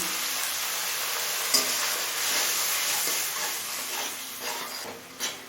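Spices with a little water and salt cooking hard on a high flame, a loud, dense sizzle and hiss close up, with occasional stirring knocks and scrapes toward the end.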